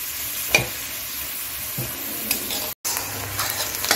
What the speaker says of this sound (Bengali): পেঁয়াজটা এখন আমি 3 থেকে 4 মিনিট ভেজে নিচ্ছি